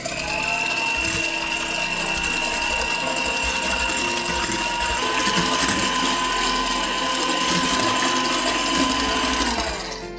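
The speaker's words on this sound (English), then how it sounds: "add the remaining sugar and half a teaspoon of vanilla and whisk until creamy and smooth" An electric mixer whisks egg yolks with sugar and vanilla in a bowl, a steady loud mechanical whir with a constant high tone lasting about ten seconds before winding down at the end.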